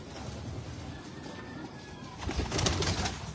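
Stock pigeons in a breeders loft give soft, low cooing calls, faint at first and then fuller and denser toward the end, over a steady background rustle.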